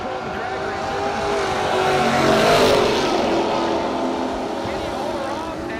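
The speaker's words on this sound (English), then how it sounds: "One of the heavy hitters from New York is in control of the drag race." Drag racing cars in a no-box bracket race launch and accelerate down the strip, engines swelling to a loud roar mid-clip and then fading, with a commentator talking over the noise.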